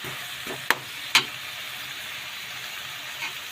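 Pechay greens and shrimp sautéing in a pan give a steady soft sizzle, with a few sharp clinks of a utensil against the pan near the start.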